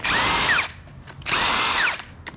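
A power drill or impact tool loosening bolts on a Honda D16Z6 engine during disassembly, giving two loud, close whirring bursts of about half a second each, separated by a short pause with faint clicks.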